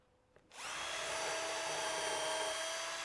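A power drill fitted with a 3/16-inch bit bores a center hole in wood for a garden project, starting after a brief moment of quiet into a loud steady whine that holds nearly to the end.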